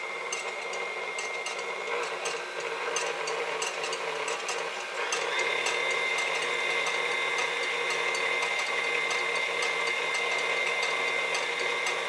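A steady mechanical whir with rapid clicking and grinding from a motorized ice cream maker churning caramel cashew ice cream on a slow setting, moderately loud and unchanging.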